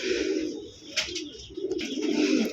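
Pigeons kept for sale coo in soft, low, rolling calls, several overlapping close by with a few brief chirps, and no talking.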